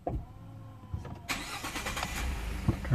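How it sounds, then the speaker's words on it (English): A Ford F150 pickup truck's engine cranks and catches about a second in, then settles into a close, steady idle with a rough rumble. "Turn the truck on."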